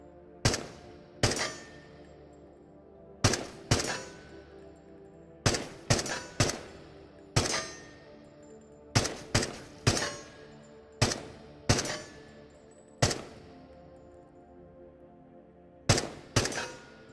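Rifle gunfire in the video game Into The Radius: about fourteen loud, sharp shots fired singly and in quick pairs, each with a short ringing decay, no talking.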